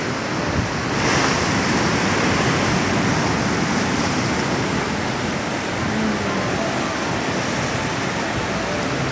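Rough sea waves break on the shore at Sliema beach, Malta, a loud, continuous roar of surf with wind buffeting the microphone throughout.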